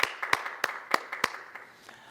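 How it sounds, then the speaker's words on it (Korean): Sparse, scattered claps from a church congregation during a Sunday worship service, a handful of separate sharp hand claps spread across the moment rather than a full sustained round of applause. "우리 하나님께 영광의 박수 올립니다"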